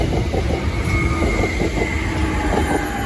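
A Southeastern Class 465 electric train bound for Gravesend rumbles past close by at Wandsworth Road, with a steady loud roar and faint clickety-clack of wheels on rail throughout.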